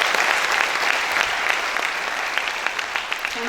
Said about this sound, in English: could I request you to clap one more time for all our winners